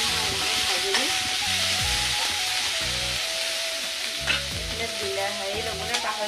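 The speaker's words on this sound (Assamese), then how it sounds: "সেইখিনি অকণমান টাইম মই এনেকৈ ভাজিলোঁ" Pieces of paneer frying and being stirred in a pan of oil, a continuous sizzle with scraping stirs, under someone speaking in Assamese.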